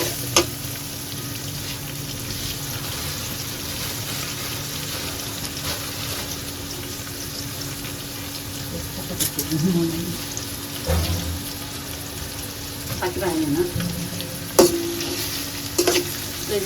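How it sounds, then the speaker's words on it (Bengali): Onions fry over a low gas flame in a pot with cinnamon and cardamom, giving a soft, steady sizzle broken by occasional clinks and stirring scrapes, fairly faint throughout. "পেঁয়াজটা ভেজে দিচ্ছি"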